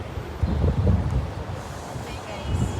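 Gusty outdoor wind buffets the microphone in uneven, rumbling bursts that swell and ease over a few seconds.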